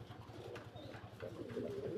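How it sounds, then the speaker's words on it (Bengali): Pigeons coo softly in a low, rhythmic pulsing pattern, faint and close, with a slight rise in level toward the end. "দেখেন কবুতর।"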